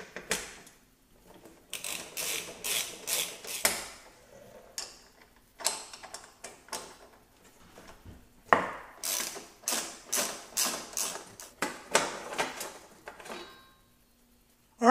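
A ratchet wrench clicks in quick repeated bursts while backing out 10 mm bolts on the underside covers of a Porsche Cayenne 3.2 liter V6, with short pauses between runs, close and clear with no talking.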